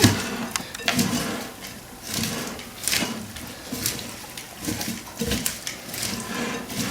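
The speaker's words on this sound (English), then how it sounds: "And using the tongs to mix everything together." Tongs toss and mix shredded cabbage for a Caribbean coleslaw in a bowl, producing close, irregular wet rustling and soft clicking bursts at an uneven rhythm, with no talking.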